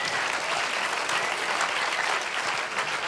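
An audience in a church gives a sustained round of applause, dense steady clapping from many people filling the whole stretch at an even loudness.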